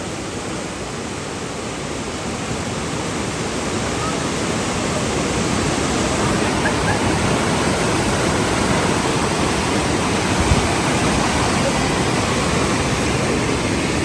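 Water rushes through the opened spillway gates of the Iranaimadu reservoir, a dense, steady roar that builds slightly and then holds constant throughout, loud and unbroken.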